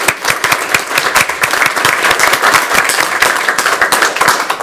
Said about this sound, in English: A round of applause for Kyle.